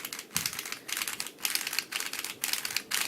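A speedcube puzzle clicks crisply as it is turned, quiet bursts of rapid plastic clicks coming in short clusters roughly every half second, close up with no talking.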